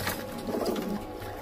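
High-flyer pigeons, of a kind kept and sold as kabootar, coo in a short, soft, throaty burst heard up close, with no talk over it.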